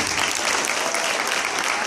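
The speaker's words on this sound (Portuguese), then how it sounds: "Mais uma salva de palmas aos nossos queridos alunos." A crowd at a student performance claps enthusiastically, a dense, even burst of applause that stays loud throughout.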